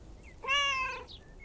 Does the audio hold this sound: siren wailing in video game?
no